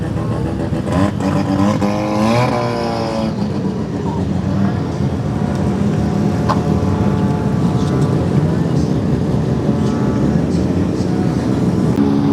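A rotary-engine car driving laps, a loud continuous engine drone with rising and falling revs as it passes, close and sustained throughout.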